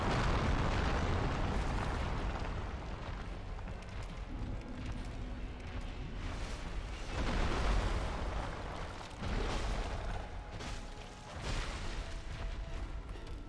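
Explosions in the video game Dark Souls, set in Sen's Fortress: a dense, continuous roar of loud booming blasts with several swelling bursts, no talk over them.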